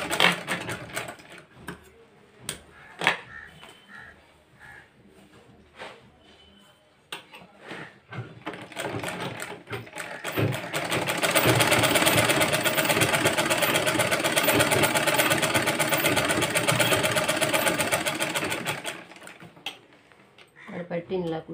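A sewing machine stitches a blouse lining: scattered clicks and handling knocks at first, then a sustained, loud mechanical whirring run of several seconds that stops abruptly, with someone talking at times.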